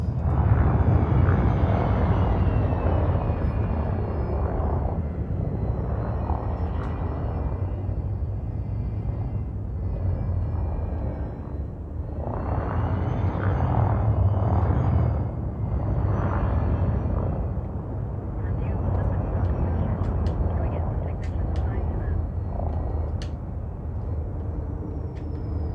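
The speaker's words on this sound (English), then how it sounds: "Landing gear deployed." Spacecraft in a video game setting down with landing gear deployed: a loud, steady engine roar and hum that swells and eases in waves, with small mechanical clicks near the end.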